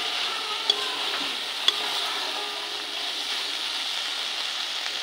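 A potato and onion curry with a spoonful of garam masala being stirred in a pan, a steady soft sizzle with a faint scrape and two brief clicks of the spoon, no talking.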